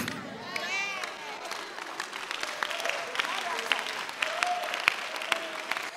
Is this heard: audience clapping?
yes